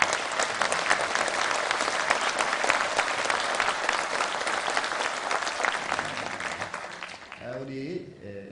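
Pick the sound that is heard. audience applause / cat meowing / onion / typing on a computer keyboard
audience applause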